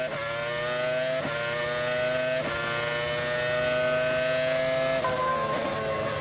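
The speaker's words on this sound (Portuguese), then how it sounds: "Aí o som do motor Peugeot." Peugeot Formula 1 engine racing at the French Grand Prix, a loud, steady high-pitched scream with rising harmonics and brief dips at gear changes, heard alone without commentary.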